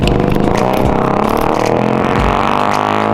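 A loud engine roars and revs nearby, the pitch shifting as it climbs, with some rattling mixed in.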